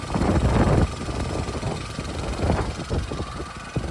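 A Kia Sonet HTK Plus petrol with iMT transmission, 2020/21 model, idles close by. It makes a steady, rough engine hum with a louder surge at the start, with wind buffeting the microphone and no talk.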